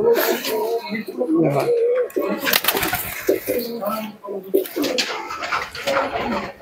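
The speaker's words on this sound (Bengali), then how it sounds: "দেখুন কবুতর কত সুন্দর ফিটিং এ আছে।" Close cooing of an Andhra breed pigeon murmurs in repeated throaty bursts, with a person talking over and between the calls and a few sharp noises.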